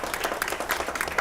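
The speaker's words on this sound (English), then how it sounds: "let's give her a round of applause" Brief applause from an audience at a campus talk, individual claps distinct and fairly close in a quick uneven patter, thin and short-lived.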